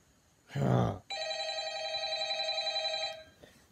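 A telephone bell rings in one steady, sustained burst of about two seconds, loud and close, after a short loud grunt-like noise just before it.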